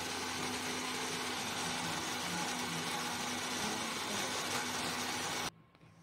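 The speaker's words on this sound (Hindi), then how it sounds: "इसे अच्छे से ग्राइंड करना है ग्राइंडर में" A mixer grinder roars steadily at high speed, grinding a spice paste for jackfruit curry for several seconds before abruptly switching off.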